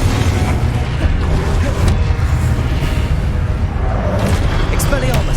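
Blasting-spell explosions from the Hogwarts Legacy video game, with booming impacts amid dense, loud combat noise that runs continuously, spell shouts and other effects layered over a rumbling low end.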